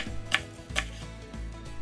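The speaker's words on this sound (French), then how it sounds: "on va ciseler le tout" A few sharp knife chops through Asian chives on a cutting board, spaced irregularly, close and clear with quiet room tone between strikes.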